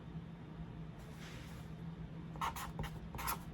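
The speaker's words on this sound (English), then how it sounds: "I want you to write" A pen writes the word fun on paper, a few soft scratchy strokes close up in a quiet room.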